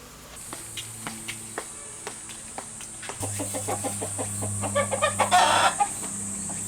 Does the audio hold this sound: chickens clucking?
yes